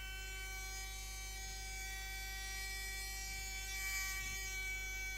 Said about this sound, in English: the Dremel is a little bit loud and really close to the microphone